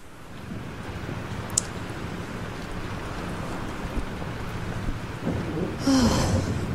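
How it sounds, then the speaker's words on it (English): Steady rain and a low storm rumble from the thunderstorm in the video game Life Is Strange, with a brief sharp crack early on and a heavier surge of rain and thunder near the end, no voices. "The storm's getting closer. This storm's real."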